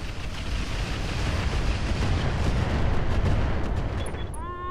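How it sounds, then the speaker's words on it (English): Artillery barrage in the mech game RogueTech, a dense continuous rumble of explosions, loud and unbroken, with a short electronic beeping tone near the end. "I'm going to put the barrage down there just in case we don't hit"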